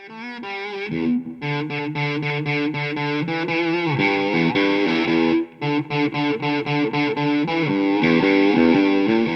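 Electric guitar through an overdrive pedal playing a riff of repeated chugging chords with sustained distorted notes, loud and continuous with brief pauses.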